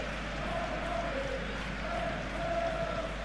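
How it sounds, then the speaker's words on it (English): Football stadium crowd during a Liverpool match, a broad continuous murmur and roar of many voices at a distance, fairly even with no single standout peak. "Crowd appreciates good football all round there."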